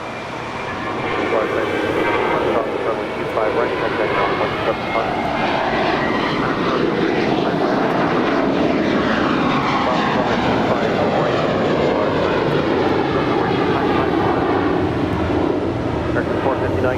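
A Volaris Airbus A321neo jet arriving at Los Angeles International Airport roars steadily and loudly nearby with a rumbling, shifting engine tone, and faint speech sits underneath.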